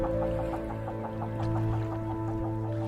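Wild eider ducks in the Vega archipelago of Norway give a rapid, regular series of soft clucking calls, close and steady throughout, over a low continuous drone.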